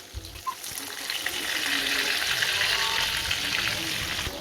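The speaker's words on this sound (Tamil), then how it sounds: "இப்போ அடுப்பை மீடியம் ஃப்ளேமில் வச்சு நல்லா பொரிச்சு எடுத்துக்கலாம்." Marinated fish fries in a pan over a medium flame, a dense, close crackling sizzle that holds steady from start to finish after a soft clatter at the beginning.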